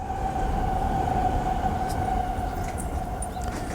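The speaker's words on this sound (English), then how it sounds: "The train's passing." A loud, steady rumble of a passing train in Japan with a sustained tonal whine riding over it throughout.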